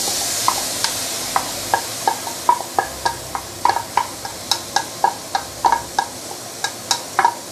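Rice being stir-fried with yam in a pan over low heat, a steady run of sharp spatula scrapes and taps repeating roughly every half second over a soft sizzle, close and moderately loud.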